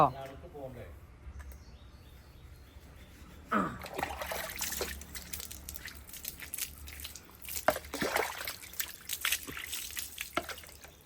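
Water is poured over a puppy during a bath: a quiet start, then splashing and trickling as water streams and spatters, uneven and close.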